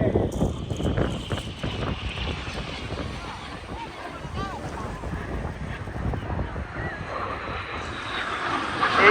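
Red Arrows display jets trailing smoke roar past at the Eastbourne Airshow, a broad distant engine rumble heard through heavy wind buffeting on the microphone, with an announcer talking throughout.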